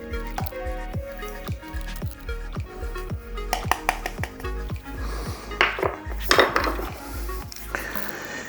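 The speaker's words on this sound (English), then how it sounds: "Stir that up until it's all dissolved in the water." A spoon stirs sea salt into one liter of fresh water in a container, giving quick rhythmic clinks against the sides, then looser swishing and splashy scraping toward the end.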